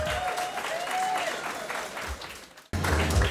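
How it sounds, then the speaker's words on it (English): Wedding guests break into a loud round of applause that carries on steadily, cuts out briefly near the end, then returns with a low thump. "Round of applause for them."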